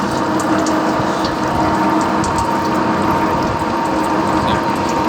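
A metal-turning lathe running during a metric thread cutting operation, giving a loud, steady mechanical whir with rapid gear-like ratcheting and a faint watery hiss throughout, constant and close with no pauses.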